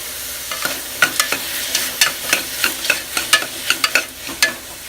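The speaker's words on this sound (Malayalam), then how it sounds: "ഇത്തിരി ഉപ്പിട്ടിട്ട് വഴറ്റും." Sautéing in a pan with a little salt for chicken curry: a soft sizzle under a rhythmic run of spatula scrapes and taps against the pan, close and fairly loud, no talk.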